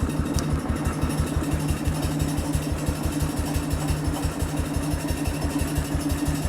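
An engine idles with a quick, even putt-putt, steady rhythmic low thumps repeating evenly at close range with little change in speed or loudness.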